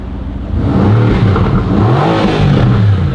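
A Mercedes-Benz supercar engine revs up close and loud, its tone climbing and falling in a couple of throttle blips after a quieter idle, with no talking.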